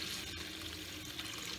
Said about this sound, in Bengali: তারপরে আমি আরেকটু জল দিয়ে দেব